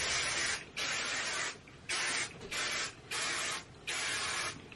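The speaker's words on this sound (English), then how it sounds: "But I'm just going to spray my hair." Chi Enviro 51 Firm Hold hairspray sprayed onto hair in six quick hissing bursts of about half a second to a second each, separated by short pauses, close and clear.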